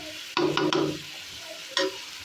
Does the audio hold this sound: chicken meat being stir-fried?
yes